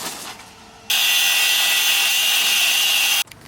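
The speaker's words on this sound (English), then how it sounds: "If in doubt, you grind it out." Angle grinder cutting through the ball joint of a BMW E36 lower control arm, a loud, steady high-pitched metal-cutting whine kicking in abruptly and holding for over two seconds before cutting off, close up.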